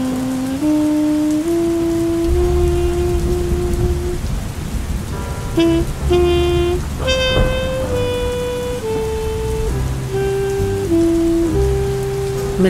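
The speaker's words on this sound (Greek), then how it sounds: "βράδυ Δεκεμβρίου, πολύ βροχή, που σημαίνει διαπεραστικό κρύο" Heavy rain falls steadily on a December night, a dense continuous wash of drops heard close, though soft piano-like music plays over it throughout.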